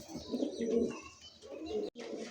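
A pair of red Lahori pigeons coo softly in repeated low, throaty phrases, close by, with a brief gap near the end.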